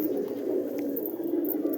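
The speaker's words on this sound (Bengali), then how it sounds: "সব দানা খাচ্ছে পায়রা অন ক্যামেরায় পায়রা দেখুন" Pigeons gathered on a school road eating grain give a soft, continuous low cooing, steady and close, with no talk over it.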